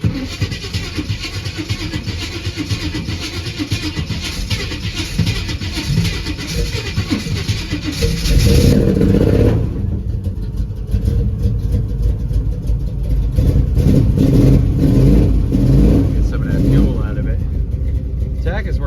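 A Buick Regal engine that struggles to hold idle runs loudly, a steady rumbling idle giving way partway through to a heavier, louder revving surge, with people talking over it.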